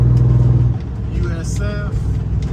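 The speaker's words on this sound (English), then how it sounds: "Got a day cab pulling out." A day cab semi truck pulls out, its engine a steady low rumble that shifts as it moves off, heard close under someone talking throughout.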